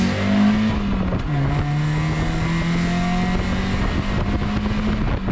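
A Mazda MX5 with a 1.6-litre, 105-horsepower engine pulls down the road, its revs climbing steadily, briefly dropping at a shift, then rising again. The interior engine drone is loud and smooth, with no speech.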